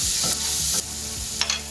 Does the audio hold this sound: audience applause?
no